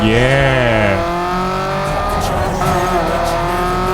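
A Nissan Silvia S15 engine in the racing game Need for Speed Underground 2 revs loudly and steadily up and down through its range, with a brief tire squeal, up close and with no talking.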